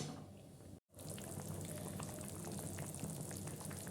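Mustard paste curry, Bengali shukto, bubbles in a pot in a steady, soft, close boiling fizz with faint popping and a brief gap near the start, with no talking.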